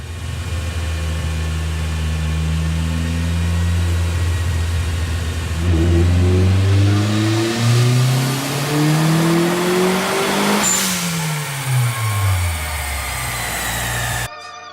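A 1997 Toyota Celica GT with a turbocharged 3S-GTE engine on a dyno, revving steadily upward from a drone to a high wail, then dropping off as the throttle closes, loud and close throughout.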